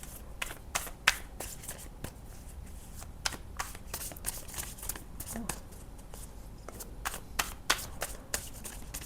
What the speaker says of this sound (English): Let me just take some cards for what is this problem regarding.